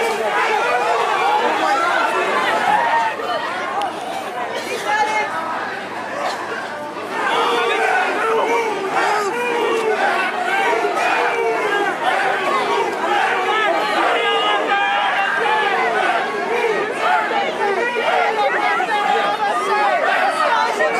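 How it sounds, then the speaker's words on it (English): A dense protest crowd outside a university encampment shouts and chatters loudly as police push it back, many overlapping voices forming a continuous, agitated roar. "Footage taken just outside the encampment shows officers forcing crowds away."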